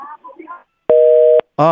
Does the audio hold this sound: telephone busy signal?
yes